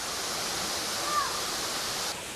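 A waterfall roars in a continuous dense rush of falling water, steady and loud for the whole stretch with no voices.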